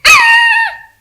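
A child imitates a dog's bark with a single loud, close, voiced yelp that rises and then fades, performed at an inter-school competition.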